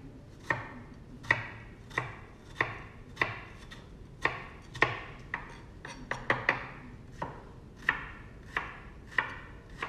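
A knife chops vegetables steadily on a board for gazpacho, sharp crisp strikes in an even rhythm with a quick flurry midway, close and clear with no talking.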